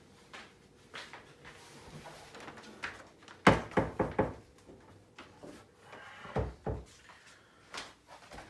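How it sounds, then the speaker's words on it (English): A door being closed indoors, with a loud wooden thunk followed by a quick rattle of knocks, then further softer bumps and clatters of handling, close by with no talking. "I'm gonna close the door here."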